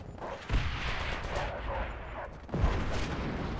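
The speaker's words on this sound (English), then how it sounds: "What's with all these people and their fucking artillery, man? It's literally like just mortars" Artillery and mortar fire in a World at War multiplayer match: a dense, continuous rumble of distant explosions with two heavier booming impacts standing out, no talk over it.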